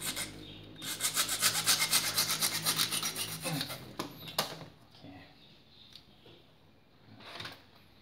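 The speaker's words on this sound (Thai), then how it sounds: "เลื่อยตรงนี้ออกหน่อยนึงนะครับ" Quick rhythmic rasping strokes of a hand saw cutting through material, about a dozen strokes, then a few knocks and scrapes as the piece comes free.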